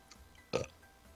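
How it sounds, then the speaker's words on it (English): A person lets out a single loud, abrupt burp in an otherwise quiet moment, with no talking around it. "I'm burping."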